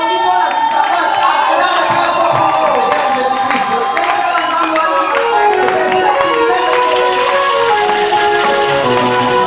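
A church congregation raises loud, continuous acclamations, with a dense wash of crowd cheering, voices and clapping that stays at full level throughout.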